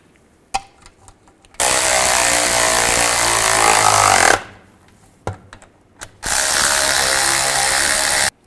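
A hand ratchet tightens a brake cover bolt on a 2001-2008 Chevy Trailblazer, giving two long, loud runs of rapid clicking, with a few sharp metallic knocks between them.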